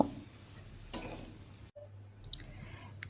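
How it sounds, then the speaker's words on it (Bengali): Water poured into a pan of frying potatoes and pointed gourd for gravy; a soft sizzle cuts out, then returns as a steady bubbling hiss, with faint metallic clinks from stirring. "এর মধ্যে পরিমাণ মতন জল দিয়ে দিচ্ছি ঝোলের জন্য"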